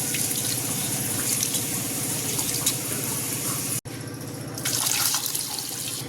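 Water runs steadily from a tap into a vessel of soaking rice for mutton biryani, a continuous close splashing flow that briefly cuts out and then resumes slightly louder.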